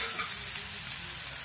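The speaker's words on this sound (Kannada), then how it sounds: "ಇವಾಗ ಒಂದು ಹಸಿಮೆಣಸಿನಕಾಯಿ ಕಟ್ ಮಾಡ್ಕೊಂಡಿರೋದು ಹಾಕ್ತಾ ಇದ್ದೀನಿ" Chopped green chilies hit hot oil in a pan while cooking egg biryani, giving a steady, close crackling sizzle with faint stirring, no voices.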